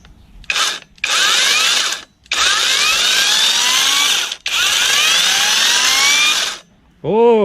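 Cordless BONYA 128V battery grinder fitted with an 11.5-inch chainsaw bar and chain, running in loud, close bursts of high whining revving with short pauses between, spinning down at the end.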